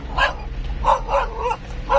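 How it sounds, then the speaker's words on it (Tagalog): A dog barks several times in quick, yappy bursts, fairly close and loud, with brief pauses between barks. "May aso pa akong nadaanan."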